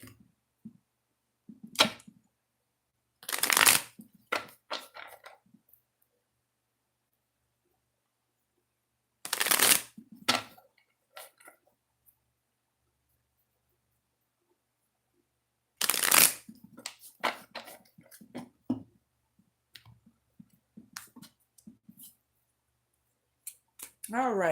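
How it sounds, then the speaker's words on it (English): A tarot card deck shuffled three times, each a sharp riffling burst of card flutter separated by quiet pauses, close and crisp, with no talking. "Let's do 3 shuffles."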